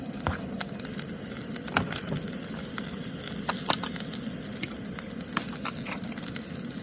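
Vegetables hit a hot pan over an outdoor cook by Raccoon Lake, giving a faint, steady crackle and patter of sizzling with scattered sharp pops throughout.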